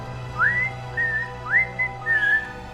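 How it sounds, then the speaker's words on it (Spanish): A person whistles the Kill Bill movie tune, a melody of rising, swooping notes in short phrases. The whistling is clear and close, heard alone over a faint steady hum. "silbé como le hacía yo con el silbido de la película Kill Bill."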